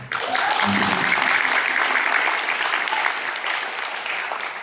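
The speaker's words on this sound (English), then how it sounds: "Round of applause." Applause from a seated audience at a university book launch, a dense, steady burst of clapping starting abruptly and tapering slightly over a few seconds, without speech.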